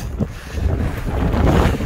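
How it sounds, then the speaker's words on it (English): Strong wind gusts while hiking up a hill in the Florida Mountains, a loud, close rumbling buffet of wind across the microphone that rises and falls over a couple of seconds, with no talking. "Real windy now, obviously."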